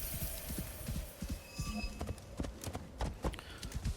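Horse hooves clip-clop in a steady walking rhythm through a video game as the horse climbs slowly uphill, over a low hum, with faint chimes and effects above.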